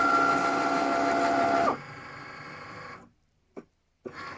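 A Cricut Maker cutting vinyl on its mat runs with a steady mechanical whir and a rising electronic tone, then drops to a quieter hum, falls nearly silent, and gives two short clicks.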